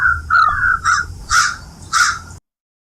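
A crow caws four times in harsh, close, loud bursts about half a second apart, alone with no talk, then silence.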